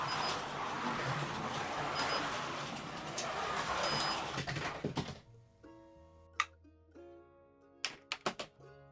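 A Carrera Next Gen NASCAR slot car with magnets runs on its track, its small motor whirring steadily for several seconds, then cutting out, leaving a few sharp clicks and clacks in near silence.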